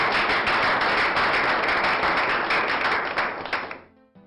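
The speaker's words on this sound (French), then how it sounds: "Applaudissez une fois de plus pour un autre." Audience applauding at a ceremony honoring the winners of a first-edition event, a dense, steady wash of clapping that holds loud for several seconds before trailing off quickly at the end.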